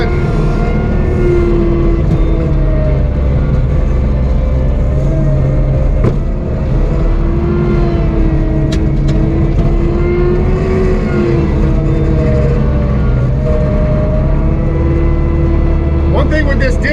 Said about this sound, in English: you gotta go slow because it takes a lot of hydraulic horsepower to spin that disc.